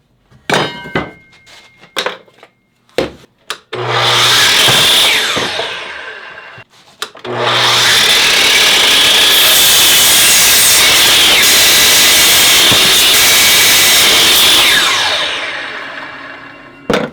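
Hand saw cutting through 2x4 lumber: a few knocks and clunks while setting up, then two long bursts of loud, fast, continuous rasping strokes, close by with no voices.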